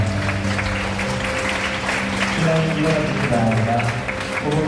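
Applause from a crowd of wedding guests in a wedding hall, steady clapping under a bed of voices and chatter throughout.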